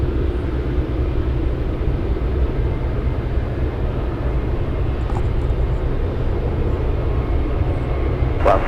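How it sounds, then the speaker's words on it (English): An Alaska Airlines Boeing 737 bound for King Salmon takes off at Anchorage airport, heard as a continuous, fairly loud broadband jet roar at a distance with no talking. "Let's go over to the Alaska 737 flying to King Salmon."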